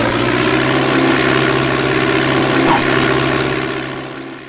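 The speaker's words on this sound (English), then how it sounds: "now it's going to give me 2 aircraft" Propeller aircraft engines from an airplane video game drone loudly and steadily throughout, then ease off slightly at the end.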